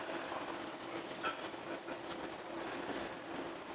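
Deutsche Bahn train pulling into Hamburg main station, a steady low rolling rumble with faint clicks and a brief squeal, heard from inside the carriage at moderate, even loudness.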